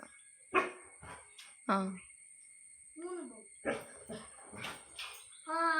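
A dog barks on command in a series of short, separate woofs and yips spaced through the stretch, close and fairly loud, with a person's voice talking between the barks.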